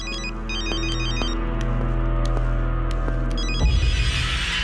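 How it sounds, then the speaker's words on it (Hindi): A telephone rings with a repeated electronic trill for several seconds, then cuts off abruptly into a clatter of handling noise. "भाई आपका फोन है।"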